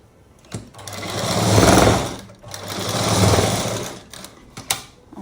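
Two sustained bursts of a sewing machine stitching a blouse, each ramping up to a loud whir and easing off, followed by a few short clicks and taps. The machine is close and there is no talk.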